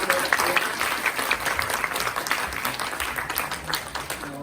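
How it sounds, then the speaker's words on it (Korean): A crowd of new theology students claps together at a university orientation, dense, steady applause filling the room, with faint voices mixed underneath. "박수 한번 해주시고요"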